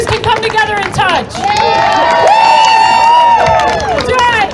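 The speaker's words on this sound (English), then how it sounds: "Another round of applause for Chris Anderson." A crowd at an outdoor political rally in Baltimore claps and cheers, with sustained applause and whooping voices that stay loud and dense across the whole stretch.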